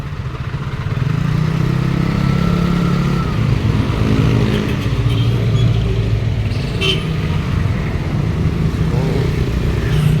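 Loud, steady city street traffic with cars and motorcycles passing close by on a Sunday morning near a church, a continuous engine rumble with brief higher whines, no talking.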